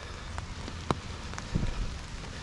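Rain falls steadily in Kandy, Sri Lanka, a constant soft hiss with a few scattered drops and taps nearby and no voices.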